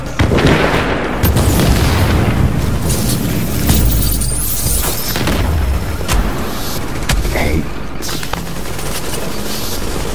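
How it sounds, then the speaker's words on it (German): A grenade detonates amid a firefight in The Division, with heavy booms and bursts of automatic gunfire in a loud, chaotic battle mix. "Oh, hier kommt eine Granate."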